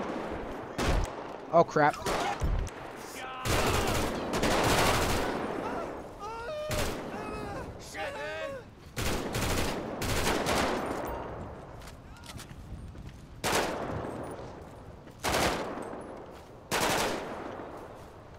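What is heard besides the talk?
gunfire in the video game GTA 5 zombie mod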